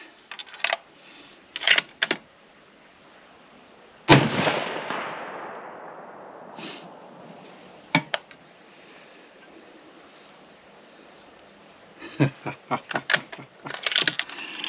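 A single sharp, loud rifle report from a 6.5 Creedmoor Savage 110 Desert Tactical rifle with an X-Caliber barrel, fired at a 100-yard range, rings out and decays over a couple of seconds, with scattered handling clicks before and after.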